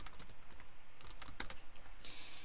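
Quiet, close typing on a computer keyboard: a quick run of light key taps in an uneven rhythm, with one sharper click midway and no speech.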